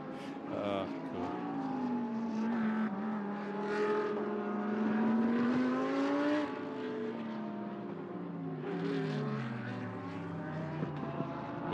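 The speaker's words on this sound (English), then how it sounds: "We're loving the car sounds." Race cars at the Motul 12 Hours of Sepang, their loud engine notes rising and falling in pitch as they run past, with a continuous roar and possible voices underneath.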